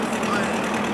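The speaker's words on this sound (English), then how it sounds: "You can hear the tractor in the background bringing the boat along." A tractor pulling a fishing boat along the beach for a surf launch at Mpame, heard as a steady mid-pitched engine drone with a faint rumble, close and unbroken for one second.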